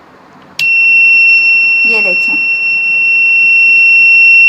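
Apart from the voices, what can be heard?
buzzer of a PIR motion sensor security alarm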